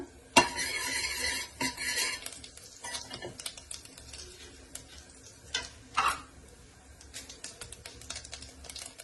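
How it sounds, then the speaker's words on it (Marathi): Cumin seeds crackle in hot ghee while being stirred, with sharp metallic spoon clinks against the pan and a light, uneven sizzle that fades to quieter scraping and intermittent taps. "त्याच्यामध्ये आता मी जिरा घालते जिरा चांगला फुल्ला का"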